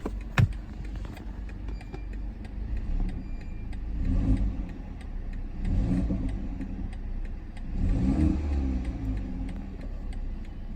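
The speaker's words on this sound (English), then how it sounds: "Very quiet engine." A 2019 BMW 330i engine idles nearby, then revs up three times in steady swells, each rising and falling back to a quiet idle.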